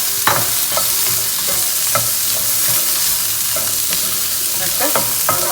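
Potatoes, carrots and onions are sautéed in a pan, with a constant sizzle under repeated close scraping and clacking strokes of a spoon stirring at an uneven rhythm.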